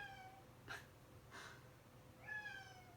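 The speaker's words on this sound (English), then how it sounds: "Was my cat meowing?" Two short cat meows sound close by, a falling one near the start and a longer rising-then-falling call near the end, over quiet room hum.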